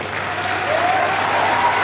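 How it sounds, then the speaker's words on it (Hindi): At a political rally in Jammu, a large crowd claps loudly and continuously, with a steady dense roar of applause throughout. "और जम्मू वालों जोर से ताली बजाना।"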